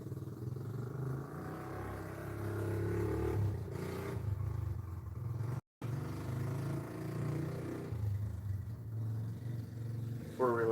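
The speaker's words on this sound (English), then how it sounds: "4-wheeler sounds like it needs a little engine work" A four-wheeler ATV engine runs rough at a steady idle, a low, uneven droning rumble held at moderate distance for the whole stretch, with one brief cut partway through.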